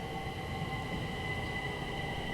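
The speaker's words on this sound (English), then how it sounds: "The thing about these trains is they have a very distinctive high-pitched whir." A London Overground train passing nearby, a steady high-pitched electric whir with a sustained tonal hum over rumbling wheel and rail noise, continuous and fairly loud.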